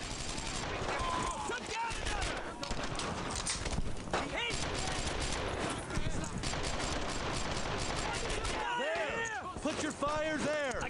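Sustained WWII-era gunfire from Brothers in Arms: Earned in Blood, with volleys of rifle and machine-gun shots rolling on and off, shouted squad callouts over it and a few louder close blasts near the end.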